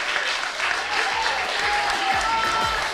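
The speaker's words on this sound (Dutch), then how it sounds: "Geef haar nog een groot applaus," Audience applause in a Dutch television studio, continuous dense clapping at close range for the full stretch, with a faint voice underneath.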